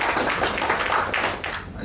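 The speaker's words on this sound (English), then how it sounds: "one round of applause" Audience applause at a gathering, a short, steady patter of many hands clapping at moderate distance, dense and even, fading slightly near the end, with no speech over it.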